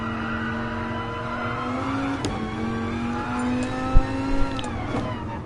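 Group 4 Dodge Viper race car in the racing game GT Sport, its engine droning loudly and steadily close up, pitch holding and then rising as it accelerates, with brief sharp clicks and knocks toward the end.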